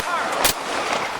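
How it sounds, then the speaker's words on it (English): A single gunshot fired at police during an armed standoff: one sharp, loud crack lands mid-clip above a steady, noisy radio-like background. "We got shots fired at the police."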